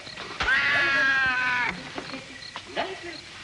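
A cat gives one long, loud, drawn-out meow close by, wavering in pitch for over a second, followed by a few fainter, brief chirps and rustles.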